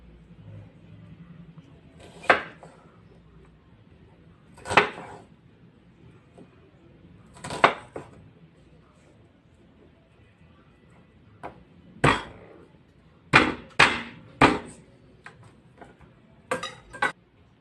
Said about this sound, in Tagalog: hiwain naman po natin ang ating sibuyas, diktikin ang bawang para po sa ating paggigisa